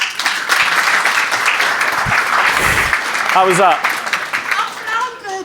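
An audience at a property masterclass gives a round of applause, sustained clapping throughout while a voice speaks over it near the end.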